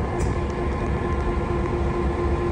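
Diesel railroad locomotive idling at a depot, a steady droning engine rumble with a sustained tonal hum, constant and close with no pauses.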